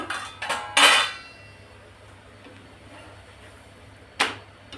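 A cooked radish paratha lifted off the pan onto a plate, with a few sharp metallic clinks and scrapes of utensil against cookware, then quiet, then one more clack.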